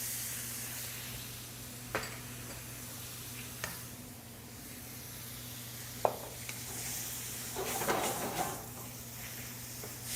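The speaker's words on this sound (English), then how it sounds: "I'm gonna add garlic now." Garlic added to a hot frying pan gives a steady, quiet sizzle over a constant low hum, broken by a few sharp clinks and a louder burst of crackling near the end.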